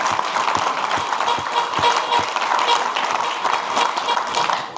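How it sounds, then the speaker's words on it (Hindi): Dense, loud clapping from a seminar audience in a large hall, rapid continuous hand claps with a steady rhythm and no pauses, lasting several seconds. "तो एक बार जोरदार तालियां, ताली बजानी है तो जोर से बजाना"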